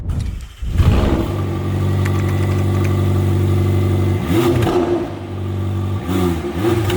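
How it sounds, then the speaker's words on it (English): A 2021 McLaren GT supercar engine revs and settles near and loud, its exhaust note rising into throaty blips over a steady idle, with a few sharp throttle stabs toward the end. "everybody's favorite part of any car review is we're gonna test the exhaust note"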